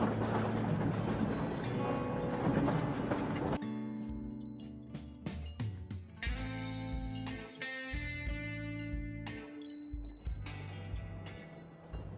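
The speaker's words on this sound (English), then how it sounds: "the train is calmly rolling eastward" A train in the video game Metro Exodus rolls steadily along the tracks with rhythmic clacking and rumbling, layered with mechanical clatter and tonal hums throughout.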